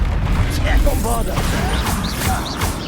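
Bombarda blasting spell in Hogwarts Legacy erupts amid dense, steady combat noise, with booming, crashing impacts layered under a shouting voice and swishing magical effects.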